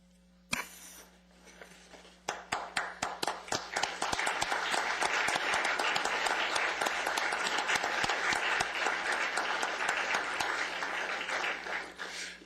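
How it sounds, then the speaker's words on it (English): An audience breaks into sustained applause for a school cross-country team, the clapping building from a few scattered claps into a dense, steady ovation that holds loud and full before tapering slightly at the end. "let me tell you why you're clapping"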